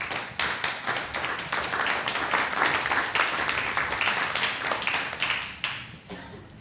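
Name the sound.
audience clapping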